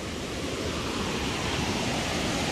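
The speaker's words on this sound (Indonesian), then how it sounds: "Air terjun ke sungai ni, sungai." Waterfall pouring into a river near a bathing spot at Batu Kurau, Perak, a steady broadband roar of rushing water, loud and continuous with no voices.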